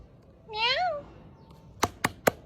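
Cats in historic Cairo give one rising and falling meow up close, followed by three sharp knocks or taps, each a second apart.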